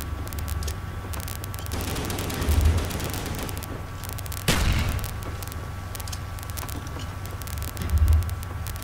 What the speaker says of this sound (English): just throw a grenade.